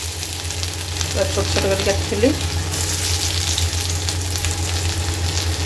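Garlic and ginger fry in oil with a continuous loud sizzle, and a voice speaks briefly over it.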